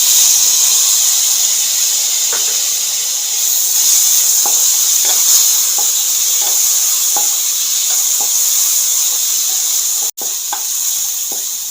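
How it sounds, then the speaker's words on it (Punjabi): Chopped tomatoes and onions lightly frying in a pan give a steady bright sizzle and hiss, loud and close, with occasional soft clicks of stirring and a brief break near the end. "ਟਮਾਟਰ ਨੂੰ ਤੇ ਪਿਆਜ਼ ਨੂੰ ਹਲਕਾ ਜਿਹਾ ਭੁੰਨਣ ਤੋਂ ਬਾਅਦ"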